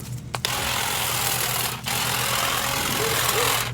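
Saker 20V cordless hedge trimmer running steadily, a loud close buzzing motor hum with rapid cutter chatter, briefly dipping once before resuming, with no voices.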